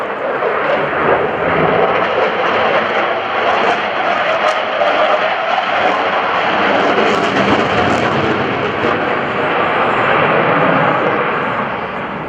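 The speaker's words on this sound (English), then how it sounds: "As the Super Hornet again approaches us, it will accelerate to 450 miles per hour." A Boeing F/A-18F Super Hornet at the 2014 NAS Oceana airshow flies a demonstration pass, and its jet engines give a loud, sustained roaring rumble that swells and holds for the whole stretch.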